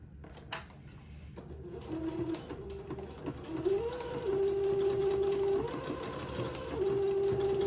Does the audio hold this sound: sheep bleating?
no